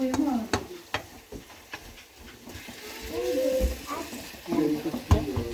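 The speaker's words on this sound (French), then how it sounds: "il faut laisser cuire les lardons parce que c'est pas bon les lardons si c'est pas cuit" Lardons fry in a pan with a soft sizzle, punctuated by clinks and scrapes of stirring, while people talk over it at close range.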